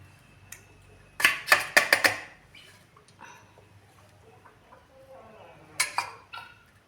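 A metal pan holding a semolina rava cake is tapped several times to loosen it, with a quick cluster of sharp clinks and knocks followed later by a second short burst, close and fairly quiet.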